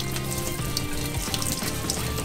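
Running tap water pours steadily and loudly into a sieve of quinoa being rinsed in a sink, a dense, continuous splashing rush with faint gurgles and no voices.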